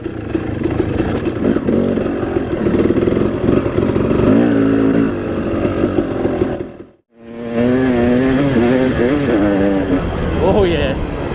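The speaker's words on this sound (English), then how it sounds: "there's some serious pinging or rattle going on there." Enduro motorcycle engine running loud and close on an off-camber track, with a busy metallic pinging and rattling layered over its revving drone, a brief dropout near the middle, and voices calling out over it.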